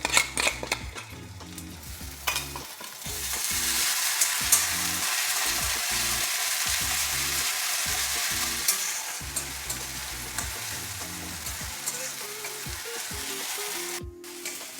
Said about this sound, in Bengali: আমাদের আদা রসুনটা ভাজা হয়ে গেছে।